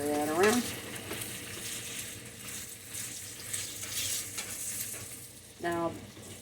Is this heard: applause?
no